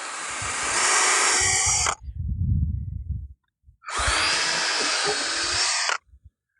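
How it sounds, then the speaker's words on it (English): Power drill driving into timber during allotment building work outdoors, two loud sustained bursts of whirring with a short pause and low rumbling handling noise between them. "what we're going to simply do then is drill those in, and then we'll screw into here"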